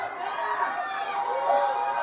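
Crowd noise from spectators at a World's Strongest Man contest: a steady, dense wash of cheering and chatter that holds at an even level throughout, with no clear individual voices standing out.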